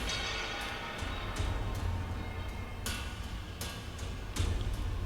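Game music made of clanging, percussive strikes like something beating a metal surface rings out in irregular hits over a dense, noisy rumbling bed, moderately loud with no talking.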